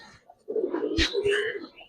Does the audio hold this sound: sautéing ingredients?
no